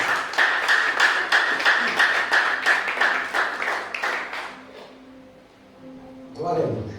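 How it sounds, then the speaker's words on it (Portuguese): Church congregation clapping in praise, a rhythmic, unified beat of hand claps for several seconds that fades out, followed by a voice rising near the end. "Vamos aplaudir o Senhor Jesus."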